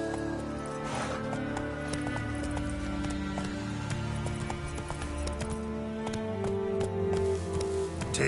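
Roach, the horse in The Witcher 3, moves with a steady, rhythmic clip-clop of hooves over a sustained low background music bed, at moderate loudness.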